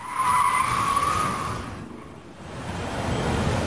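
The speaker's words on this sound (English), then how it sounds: "one of the stunt maneuvers is a speeding 180-degree turn" A BMW 7 Series skids its tires through a speeding 180-degree stunt turn: a loud, sustained tire screech that fades, then gives way to rushing car and road noise, close and continuous.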